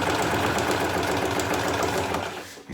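A sewing machine stitches the fly of a homemade backcountry camping tent, its motor running in a steady, loud, continuous whir that eases off briefly near the end.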